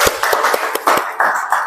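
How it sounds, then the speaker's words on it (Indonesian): A classroom group claps briefly, a short burst of scattered, uneven hand claps lasting under two seconds, close and fairly loud with no talking. "Kasih aplaus untuk kita semua."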